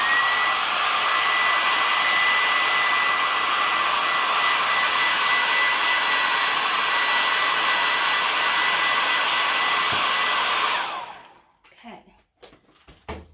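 A hair dryer blows on a wooden Easter egg cutout, a loud steady whine and rush running for about eleven seconds before switching off into quiet with a few small handling knocks.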